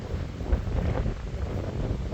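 Wind rushes and buffets against the microphone outdoors beside a Huaye HY14C mini excavator, a low, continuous rumble with no other sounds.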